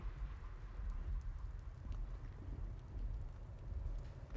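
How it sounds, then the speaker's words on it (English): Soft, steady rainfall in a horror video game, a faint continuous patter with a low rumbling wash beneath it and no voices. "Oh, it's raining."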